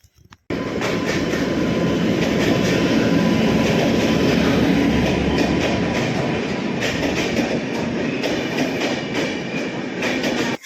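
Uttar Banga Express pulling out of Bolpur Shantiniketan station, a loud continuous rumble of wheels and carriages with rhythmic clatter building steadily throughout.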